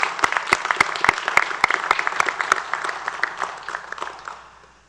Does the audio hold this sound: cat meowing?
no